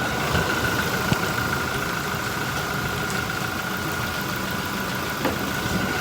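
Toyota Kijang Innova 2.4 G diesel automatic idling, a steady, even mid-pitched engine hum with a faint constant whine, close and continuous with small clicks, no talk.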